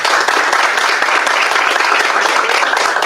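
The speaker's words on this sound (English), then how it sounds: "Another round of applause for everyone here tonight." An audience at a college trustees election forum applauds loudly and close up, a thick, continuous burst of many hands clapping for a few seconds.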